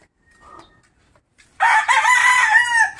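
A rooster crows loudly and close by, a long strained call following a brief faint cluck from the chickens around it, with no talking.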